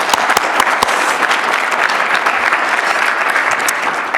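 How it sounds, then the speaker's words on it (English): An audience applauds graduating design students at a thesis capstone reception, loud sustained clapping with sharp individual claps standing out close by, continuous and without a break. "We're going to keep clapping for you tonight"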